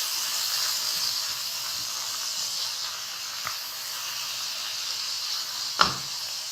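Tomatoes sizzle in hot oil in a kadai with a steady, even hiss, broken by a couple of faint clinks, and no talking.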